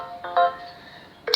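A cartoon telephone ringtone in a children's earthquake-safety animation, short electronic melody notes chiming in a quick sequence, clear and close.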